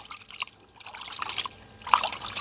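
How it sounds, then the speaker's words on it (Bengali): Water trickles and splashes faintly as raw poultry chicken is washed, a soft, uneven running stream with small drips close by. "চিকেনটাকে ভালো করে ধুয়ে নেব।"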